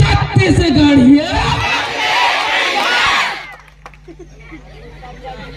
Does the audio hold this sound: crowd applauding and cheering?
yes